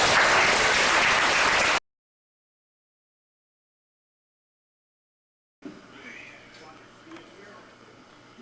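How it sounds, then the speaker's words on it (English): Audience applause at a community gathering for a wish foundation event in Sarnia, Ontario: a dense burst of clapping up front, then a gap of silence and a softer, more scattered stretch of crowd noise. "a little round of applause for our friends"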